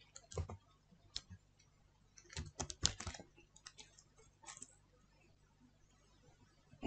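Password typed on a computer keyboard, with irregular clusters of close, crisp key clicks and short pauses between them, no talking.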